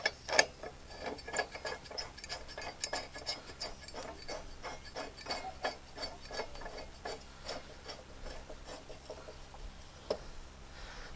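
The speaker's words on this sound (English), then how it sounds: "Now I'll put the blade back on." A wrench refits the blade on a 2003 Toro Personal Pace Model 20017 lawn mower, giving a long run of steady, close ratcheting clicks with faint mechanical rubbing and no talk.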